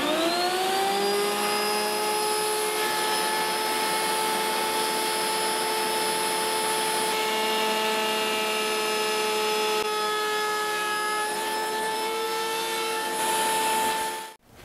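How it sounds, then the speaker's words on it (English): A router fitted with a 45-degree bevel cutter runs loud and close, a sustained high whine as it bevels the edges of wood for an art clock, steady for several seconds before winding down at the end. "So now I'm going to bevel the edges here with my router."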